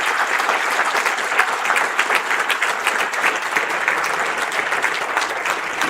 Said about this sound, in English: Turn around and give that man a round of applause.